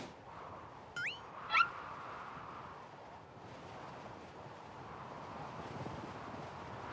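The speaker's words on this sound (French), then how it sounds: "Le vent souffle de plus en plus." Wind blows in a low, steady rush against the microphone, with a couple of short high chirps early on and faint gusts rising later.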